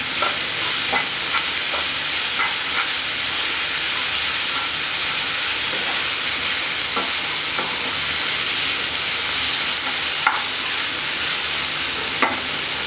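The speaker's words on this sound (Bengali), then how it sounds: "আমি এখন এর মধ্যে দুনে পাতা ছড়িয়ে দিচ্ছি আবার একটু মেরে দিচ্ছি" Okra bhaji being stirred in a pan with coriander leaves scattered in, a steady broad sizzle-hiss with repeated sharp scraping clicks of the spoon against the pan, close and continuous, no voices.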